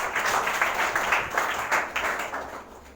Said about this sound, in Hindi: सारे बच्चे ताली बजाओ।